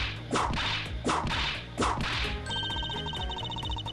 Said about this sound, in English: Miss Von Car's really letting her whip fly now.